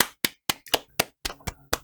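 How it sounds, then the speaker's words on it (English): A round of applause from a single pair of hands, about eight sharp, close claps in a steady unhurried rhythm, with no talking. "thank you for that round of applause"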